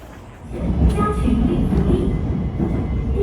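A metro train rides along an elevated line on the way out of Ningbo toward Cicheng Town, heard from inside the carriage as a steady, broad rumble with faint rattles and squeaks.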